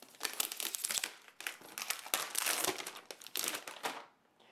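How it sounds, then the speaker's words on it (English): Protective plastic film peeled off an Acer Iconia Tab A500 tablet, close crinkling and crackling in bursts for several seconds before stopping. "Let's take off the plastic really quickly"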